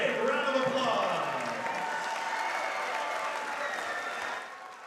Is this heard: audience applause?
yes